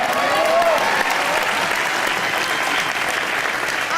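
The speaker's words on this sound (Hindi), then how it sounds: "जोरदार तालियां" A studio audience at a TV comedy show breaks into loud, sustained applause, a dense wash of clapping that holds steady throughout.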